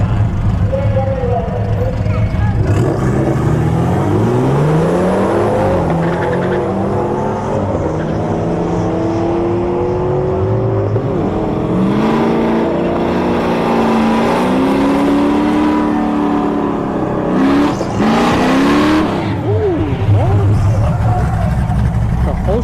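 A BMW 335i and a 5.0 Mustang drag racing at Bradenton Motorsports Park, engines revving and climbing through gears loudly and close, with an announcer talking over the steady roar.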